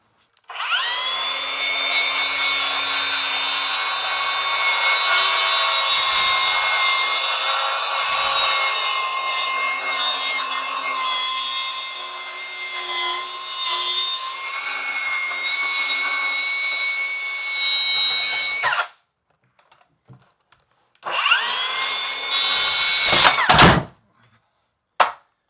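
A cordless power saw fitted with a dust catcher cuts through wood in one long, loud continuous pass of about eighteen seconds, stops, then makes a shorter second burst before spinning down.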